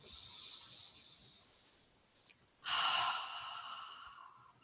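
A deep, slow breath taken while seated during chair yoga: a long hissy inhale, a brief pause, then a louder, breathy exhale close to the mic, with no talking.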